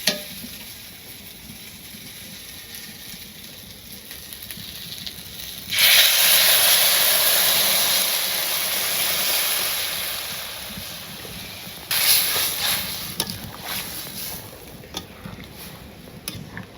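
Mustard paste added to a hot pan in a home kitchen, bringing a sudden loud sizzling hiss that swells, slowly fades, then flares again more briefly, over a steady background hum.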